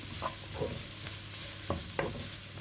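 Sliced onions sauté with curry leaves in a pan over a medium-to-low flame for fish podimas, with a soft sizzle under a few distinct scraping stirs, close and without talk.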